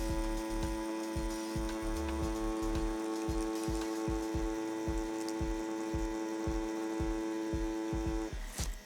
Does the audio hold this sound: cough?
no